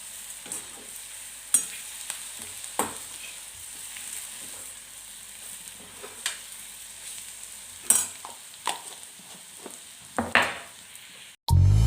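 Bitter gourd curry (karela bhaji) stir-frying in a pan, a steady soft sizzle with scattered scraping and stirring knocks from a spatula, close and alone without any talk, ending in a brief loud clatter.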